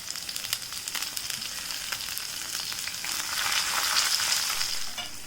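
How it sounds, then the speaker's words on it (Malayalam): Small red shallots and green chilies fry in hot oil in a pan, a bright continuous sizzle with crackling spits that swells louder toward the end as they are stirred. "നമുക്ക് ഈ ചുവന്നുള്ളി ഇട്ടിട്ട് ഇളക്കി കൊടുക്കാം."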